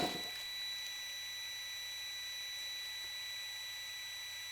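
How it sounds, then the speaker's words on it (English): A Cobra 2500 watt CPI2575 power inverter sounds a constant, steady high-pitched overload alarm tone that holds unchanged throughout, fairly faint with a low hum beneath. "the inverter is still beeping"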